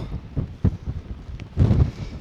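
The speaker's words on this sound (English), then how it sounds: "it's hellish windy still" Gusty mountain wind in the Scottish Highlands buffets the microphone in uneven bursts, with a louder rushing gust near the end.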